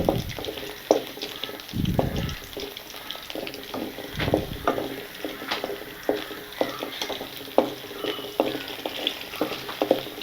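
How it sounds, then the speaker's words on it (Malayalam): Four green chillies, five garlic cloves and six dried red chillies sautéing in oil, a continuous sizzle broken by repeated scraping and clattering stirs of a spatula in the pan. "എണ്ണ ഒഴിച്ച് 4 പച്ചമുളക്, 5 അല്ലി വെളുത്തുള്ളി, 6 വറ്റൽമുളക് ഇത്രയും വഴറ്റിയെടുക്കാം"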